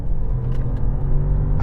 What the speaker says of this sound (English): Let's experience that twin turbo 4-litre V8, and it absolutely flies.